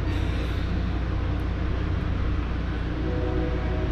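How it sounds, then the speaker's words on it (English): Miami Metro Rail train rolling along the elevated line overhead, a steady loud rumble and roar that holds evenly throughout with no break. "And that's the Metro Rail right above us. It's the Metro Rail line."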